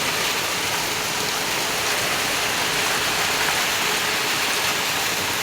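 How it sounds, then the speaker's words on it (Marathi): Heavy rain falls steadily, a dense, loud, unbroken hiss of drops spread evenly throughout, with no voices. "पाऊस बघा की पडतोय"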